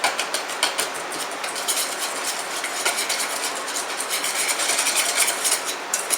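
A utensil stirs Cajun seasoning with lumpy onion powder in a bowl, giving a continuous, vigorous scraping and rubbing texture with rapid rhythmic strokes, close and fairly loud.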